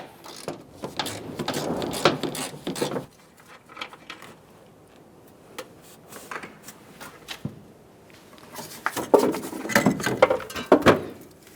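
A ratchet loosens the strut top nut on a 2006-2011 Honda Civic, with two bursts of rapid mechanical clicking separated by a quieter pause, close and fairly loud.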